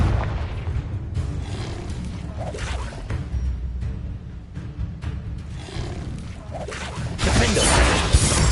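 Confringo blasting spell explosions in Hogwarts Legacy sound as repeated heavy booms and crashing bursts over continuous rumbling combat noise, growing louder near the end.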